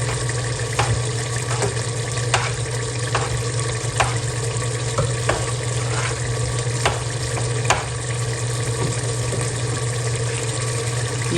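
Chana dal poured into fried beef in a pot sizzles and bubbles steadily, with a watery frying hiss, a low hum and repeated light clicks and scrapes of stirring, close and continuous without talk.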